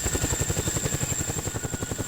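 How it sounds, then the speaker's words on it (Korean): A Chinook military helicopter lands for high-altitude airborne training, its rotors thudding in a fast, steady rhythm with a constant high turbine whine, loud and close. "드디어 고공 강화를 위한 헬기 시누크가 착륙하고"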